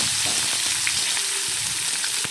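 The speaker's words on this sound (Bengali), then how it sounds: "এখন কড়াইতে জিরে ফোড়ন দিয়েছি, পেঁয়াজ কুচি দিয়ে দেব।" Chopped onion fries with cumin seeds in hot oil in a wok, giving a steady, dense sizzle close up with a few faint stirring clicks.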